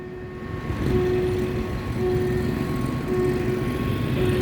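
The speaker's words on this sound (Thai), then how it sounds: "ไม้กั้นดังแล้วนะตอนนี้" A railway level crossing barrier signal on the Maeklong Railway at the Wat Pom Kaeo crossing rings in sustained, repeating tones over a steady low outdoor rumble.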